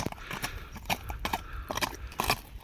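Hooves of a strong horse kept for ulak clip-clop in a steady, uneven rhythm of sharp, close knocks, fairly loud and with no voices.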